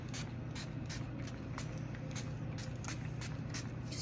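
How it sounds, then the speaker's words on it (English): Regular water misted from a spray bottle onto cake fondant, a series of short airy spritzes repeating at a steady rhythm, close and fairly quiet over a low background hum. "Spray the fondant a little bit with water, regular water."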